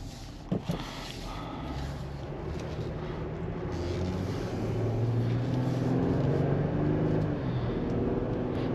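2020 Jeep Gladiator Overland 3.6 L V6 pickup engine drones steadily while driving, a low rumbling hum that grows slightly louder and rises in pitch partway through, with road noise beneath.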